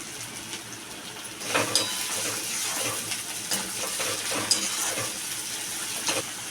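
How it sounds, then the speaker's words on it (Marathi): Tomato sautéing in oil in a pan for a Konkani-style bombil masala, a steady soft sizzle with a spatula stirring and scraping at intervals, close and fairly quiet, no talk. "आता आपण त्यात टोमॅटो ॲड केला आहे"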